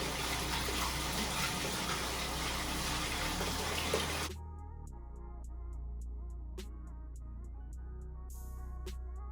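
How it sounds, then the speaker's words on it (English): Water from a tap runs strongly while hair is rinsed, then the flow drops to a softer trickle broken by sharp drips and splashes, close by with no talk. "Put your head all the way in so you can rinse everything out."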